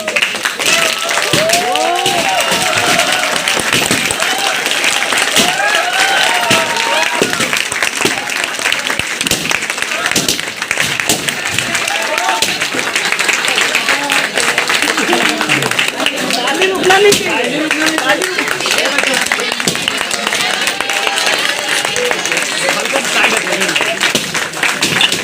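Dense, steady applause from a crowd at a Teachers' Day celebration in a medical college hall, running continuously throughout with voices and chatter mixed in underneath.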